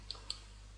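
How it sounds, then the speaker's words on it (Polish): A computer mouse's left button clicks twice in quick succession, crisp and close, over a faint steady hum with no talking. "Możemy je zamykać tu po prawej stronie u góry czerwonym X-em"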